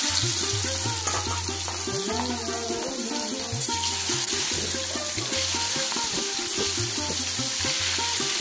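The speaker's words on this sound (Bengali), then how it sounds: "আর কড়াই বসিয়ে দিয়েছি মাছ ভাজার জন্য।" Fish frying in oil in a wok on a home stove, a steady close sizzle running throughout with some clinking and stirring sounds, no talk.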